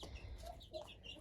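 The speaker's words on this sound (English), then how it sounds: "These are some of our other chickens in here." Chickens in a backyard coop give soft, scattered clucks, a few short faint calls close by over low background noise, with no voices.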